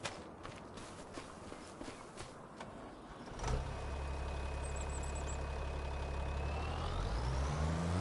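A tractor engine in a farming video game starts up and runs with a steady, loud low drone, preceded by a few light footstep-like sounds.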